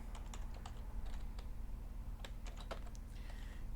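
Rapid keystrokes on a computer keyboard while someone types code, sparse irregular clicks in quick bursts over a steady low background hum, fairly faint and close.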